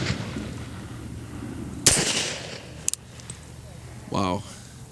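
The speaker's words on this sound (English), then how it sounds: "So I'll take a few more shots and we'll see how it does." Shots from a Beretta M-96D Police Special pistol at a shooting range: two sharp, loud cracks about a second apart over quiet background, followed by a brief voice near the end.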